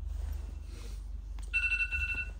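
A phone alarm rings in a room, a steady electronic tone that starts partway through and repeats over a low constant hum of ambient noise.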